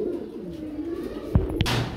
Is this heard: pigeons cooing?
yes